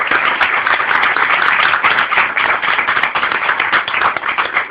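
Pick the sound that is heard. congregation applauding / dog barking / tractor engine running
congregation applauding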